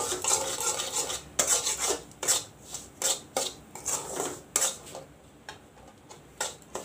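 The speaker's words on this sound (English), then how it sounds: "with the ghee I will broil the suggi till it turns little brown" Semolina (suggi) roasts in ghee for halwa with a quiet, rhythmic series of spoon scrapes and taps against the pan, each stroke soft and close, repeating about every half second with no talking.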